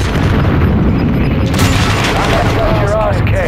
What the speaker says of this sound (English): I just hit myself a grenade